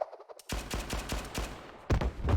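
Gunfire in the video game Blue Archive comes in a rapid burst of repeated shots and then a heavier volley. It sounds loud and punchy, with no talk over it.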